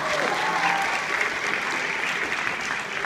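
Audience applause for a high school jazz band, a dense, steady wash of clapping that fills the whole stretch at an even, fairly loud level with no talk over it.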